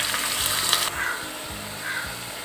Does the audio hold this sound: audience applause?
no